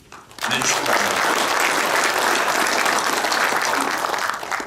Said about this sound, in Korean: 다 함께 축하의 박수를 쳐주시기를 바랍니다